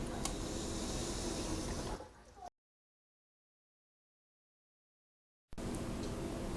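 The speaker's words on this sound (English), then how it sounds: "And just test the faucet." Kitchen sink faucet running after a leak repair, a steady broadband rush of water for about two seconds that cuts to silence, then the water flow resumes.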